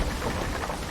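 Dense, steady rain hisses through a stormy squall at sea in Sea of Thieves, with a low rumble beneath, loud and unbroken for a brief moment.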